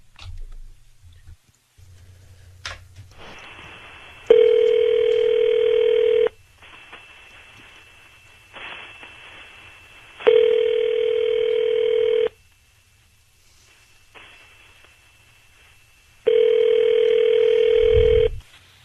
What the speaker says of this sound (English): we're going to dial up your husband right now